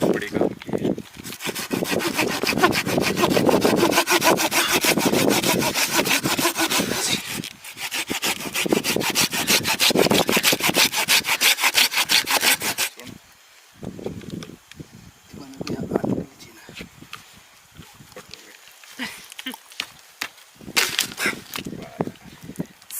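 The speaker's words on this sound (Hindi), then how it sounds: "तो ये आरी तो बड़ी काम की है।" Hand saw cutting through wood at a group campsite in a deep forest, rapid rhythmic rasping strokes in long bursts, then shorter intermittent strokes, with people talking nearby.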